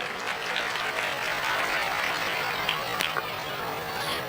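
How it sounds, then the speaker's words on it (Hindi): Loud, steady applause from an audience at a Jain Paryushan pathshala stage program, a dense continuous patter of clapping with crowd noise filling the whole stretch. "इनके वंदन में एक बार जोरदार तालियां हो जाए"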